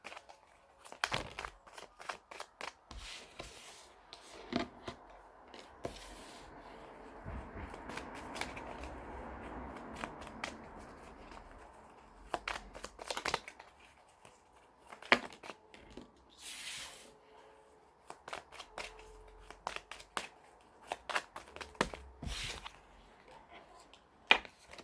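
Tarot cards shuffled and drawn for a weekly reading: soft close riffling and scattered quick card snaps and slides, fairly faint, in irregular bursts across a long stretch with quiet gaps.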